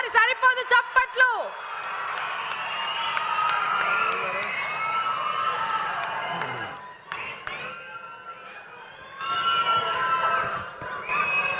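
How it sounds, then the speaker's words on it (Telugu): Audience at a public event with a minister on stage breaking into applause and cheering, a dense sustained clatter of many hands with shouts, brief sharp claps at the start and a swell again near the end, voices mixed in. "ఇంకొకసారి సరిపోదు చప్పట్లు."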